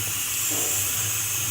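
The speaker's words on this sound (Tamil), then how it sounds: "4 விசில் வந்துடுச்சு பருப்பு." A pressure cooker cooking dal lets off a steady, loud hiss of escaping steam that holds evenly throughout without a break.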